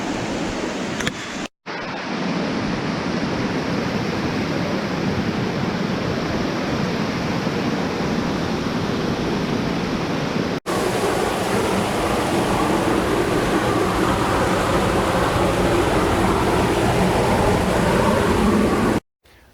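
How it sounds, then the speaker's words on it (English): A system of small waterfalls at the Walls of Jericho in Jackson County, Alabama rushes in a loud, continuous broadband roar, with two brief cuts partway through and no voices. "The fact that this whole entire system of little waterfalls exists in this area"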